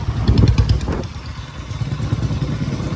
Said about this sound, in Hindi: अपनी KTM बिना रेस के तीसरे गियर में चल रही है